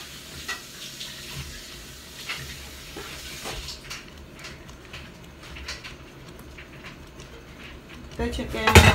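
Dishes being washed in a kitchen sink under a running tap: steady water flow with clinks and clatters of pots and cutlery, growing louder and busier toward the end.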